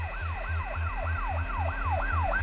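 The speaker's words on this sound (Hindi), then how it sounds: "उसे पुलिस का सायरन सुनाई दिया" A rising-and-falling electronic siren wails in rapid, repeated sweeps, close and steady, with a pulsing low horn beneath.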